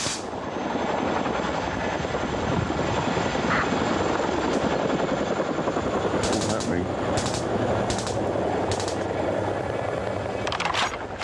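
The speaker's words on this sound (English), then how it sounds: "Suddenly, they're hit by a surprise helicopter assault." A helicopter roars low and loud during a military training exercise with Marines, its heavy rotor throb continuous. Rapid bursts of machine-gun fire crack out repeatedly over it in the second half.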